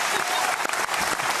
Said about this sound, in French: je tiens à vous applaudir pour ce beau résumé